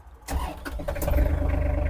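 An Iseki TG-273 Japanese mini tractor engine cranks briefly and catches, settling into a steady running rumble with a low throbbing pulse.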